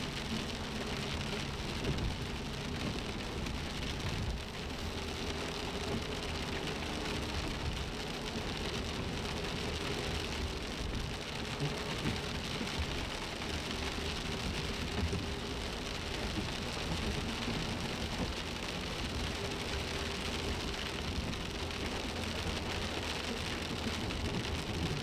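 Steady rain falls during a drive through the Colorado Rockies in June, a dense continuous hiss of drops with a low rumble of the moving vehicle underneath, even and moderately quiet for the whole stretch.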